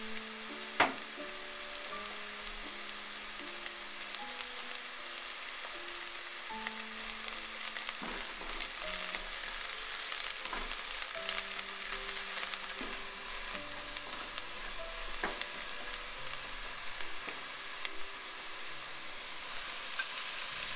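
Garlic sizzles steadily in a pan as a bolognese sauce begins for a Japanese-style doria bake, a continuous frying hiss with occasional utensil taps, under soft background music tones.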